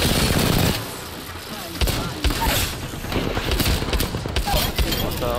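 Rapid video game gunfire crackles in bursts alongside automatic weapon fire, loud and busy, with in-game voice lines speaking over the shooting.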